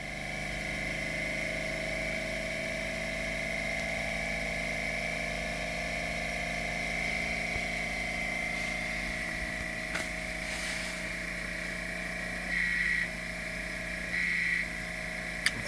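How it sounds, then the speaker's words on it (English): A homemade pulse motor on a control gear test bench spins up to speed, giving a steady, faint mechanical hum with a constant whine and light pump-like whirring that holds even throughout, with a couple of brief higher tones near the end. "It's just spinning up to speed now."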